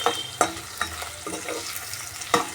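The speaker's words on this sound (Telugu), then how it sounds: "కట్ చేసిన ఎర్రగడ్డలు వేసుకొని ఫ్రై చేసుకుందాము పచ్చి వాసన పోయే వరకు" Chopped red onions frying in hot oil in a pan for an eggplant curry, a steady close sizzle broken by a few sharp scraping stirs of a spoon against the pan.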